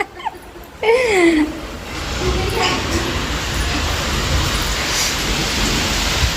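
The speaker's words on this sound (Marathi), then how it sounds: "मस्त बाहेर पाऊस पडतोय" Steady rain hisses outside with a low rumble of thunder underneath, while a voice speaks and laughs briefly near the start.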